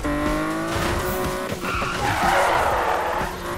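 A car drifts in Need for Speed with loud, sustained tire squeals and skidding over a revving race engine. The screech rises and falls through the turn with no talk.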